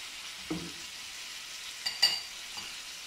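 Chicken with garlic ginger paste in a karahi gives a soft, steady sizzling hiss, broken by a few brief scraping stirs, quiet and close.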